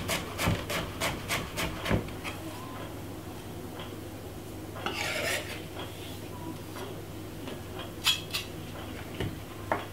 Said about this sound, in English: 2 cloves of garlic. I'm gonna finely cut it up.